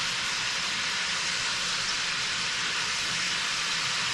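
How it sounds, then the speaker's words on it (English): Oxtails sear in a hot pan, giving a steady, loud, broadband sizzle that holds evenly throughout, close and unbroken, with no talking. "But you want to give them a good sear. Flip them a few times."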